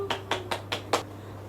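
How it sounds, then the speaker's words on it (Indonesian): Five separate hand claps, evenly spaced and fairly sharp, come from a teacher in a classroom teaching simulation with no students present. They are close and moderately loud over a quiet hum, with no crowd joining. "Kasih tepuk tangannya meriah dulu buat kita semua"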